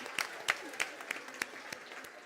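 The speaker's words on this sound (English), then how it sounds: "Clap for yourselves." Faint, distant audience applause after a group exercise at an event, sparse rhythmic claps spaced about every third of a second, thin and quiet rather than a full ovation.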